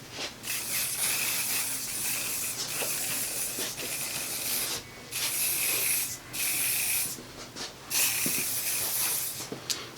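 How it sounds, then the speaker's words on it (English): Long bursts of aerosol spray hiss close by, stopping and starting several times with short pauses between them. "I'll put a little spray in."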